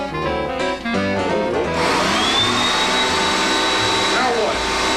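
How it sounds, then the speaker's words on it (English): A household vacuum cleaner drones steadily indoors, loud and close, its motor tone rising after a brief startup and holding for the rest of the clip. "The vacuum cleaner right there."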